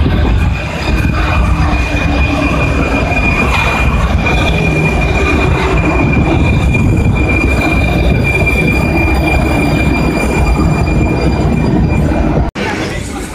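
Loud rumble of a Prague metro train pulling into a station, wheels squealing in a steady high whine, ending with a sudden clunk.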